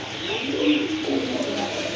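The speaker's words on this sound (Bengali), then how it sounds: "আরেক জোড়া কবুতর আছে এখানে" Indian Lotan pigeons at a pigeon seller's coop give a soft, continuous low cooing, close and steady, over a faint background hum.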